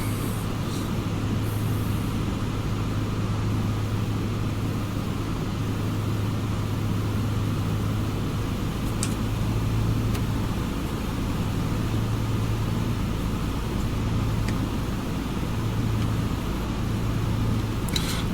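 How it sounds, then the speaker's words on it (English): Steady, loud rushing wind roars over the lowered flaps of a PA-38 Tomahawk in a flight simulator, a constant airflow hiss layered over a low engine drone with no pauses. "As you can hear, the wind now hitting the flaps."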